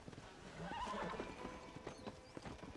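A horse whinnies over steady clip-clopping hooves in the video game Red Dead Redemption, moderately loud and close, with a slightly synthetic, game-like quality.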